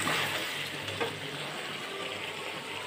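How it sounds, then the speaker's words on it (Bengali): Chicken frying in a small amount of oil, giving a steady, close, soft sizzle that stays even throughout, with no talk. "এখন চিকেন রান্না হচ্ছে। একদম অল্প তেল দিয়ে করছে"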